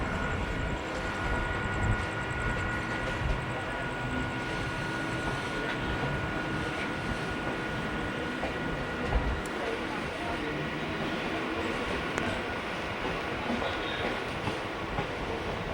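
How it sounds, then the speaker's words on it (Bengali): A passenger train pulls away and runs on, giving a steady, loud, continuous rumble and rattle of wheels and carriages from on board that never lets up. "লোকো পাইলটে সিগনাল দিল আর ছেড়ে দিল আমাদের ট্রেন"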